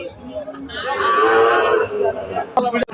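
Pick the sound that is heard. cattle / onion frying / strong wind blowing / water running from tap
cattle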